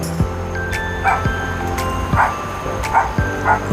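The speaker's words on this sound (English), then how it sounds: "There's the dogs barking at me again." Several dogs barking in the background of a room where an arcade cabinet is being assembled, giving four short bursts spread at roughly even intervals over a steady hum, moderately distant.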